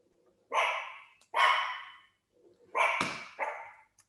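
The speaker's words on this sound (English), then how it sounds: "I've got a dog that's just run into my office" A dog that has run into a home office barks four times in two pairs, loud and close, with short gaps of silence between the barks.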